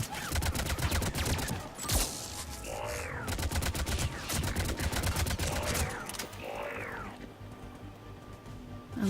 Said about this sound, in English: missile launcher.